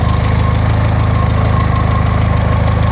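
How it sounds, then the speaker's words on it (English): A car engine nicknamed Filbert runs steadily after repair, a close, continuous low mechanical drone with a rapid even pulse and faint rattling ticks throughout. "pay attention and listen to your engine."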